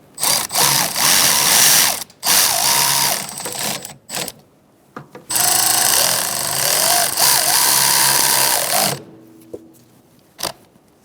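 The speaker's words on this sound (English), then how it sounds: "now we're going to snug these up and then torque them to 12 foot-pounds." A tool whirs in long loud bursts while tightening the nuts on a brake master cylinder of a 2012-2017 Hyundai Accent, stopping and starting several times with short pauses between.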